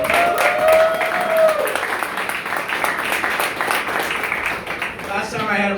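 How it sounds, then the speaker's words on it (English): An audience at a campaign kickoff for a town Select Board race claps in a steady round of applause, with a voice and a brief tonal sound rising over it at the start, then crowd noise carrying on. "So again, a nice big round of applause for that."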